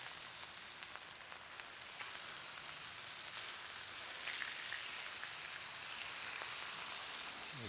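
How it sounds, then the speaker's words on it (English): Steak meat frying in hot oil for a cheesesteak gives a steady, soft hiss of sizzling that swells slightly over several seconds, heard alone without talk. "There's that sizzle."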